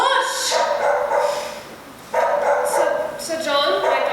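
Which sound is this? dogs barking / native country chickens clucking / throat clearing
dogs barking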